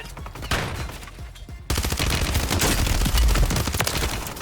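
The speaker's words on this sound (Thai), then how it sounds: "โอ้มีคนยิงมาอีก" Sustained bursts of automatic gunfire in the battle royale shooter Warzone, with a quieter stretch of shots first, then a sharp, louder jump into dense, continuous rattling fire that fills the rest.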